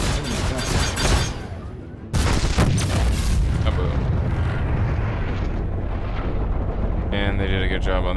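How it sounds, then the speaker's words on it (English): Loud booming explosions in the space-combat video game Star Citizen, heavy rumbling blasts that fill the space densely, with a sudden burst after a brief dip and a ringing electronic tone near the end. "they did a good job on the explosions of the game"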